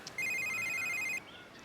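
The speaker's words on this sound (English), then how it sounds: "Dude, your phone, you gonna get that?" A phone rings with one bright electronic trill lasting about a second against faint room noise, then stops.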